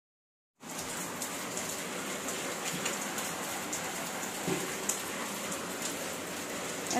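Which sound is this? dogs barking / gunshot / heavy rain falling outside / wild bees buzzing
heavy rain falling outside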